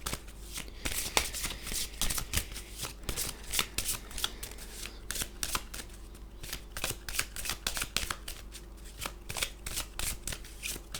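Tarot cards being shuffled close by, a steady run of crisp riffling slaps and flutters lasting throughout, with no voices.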